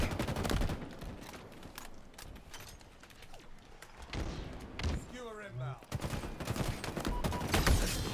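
Bursts of battle rifle fire mixed with other gunfire in a Halo video game, sharp repeated shots under busy game sound, with some voice present.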